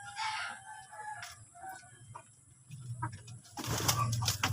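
Poultry among raised labuyo chickens, with clucks and calls close by and a louder crowing-like burst near the end over rustling yard noise.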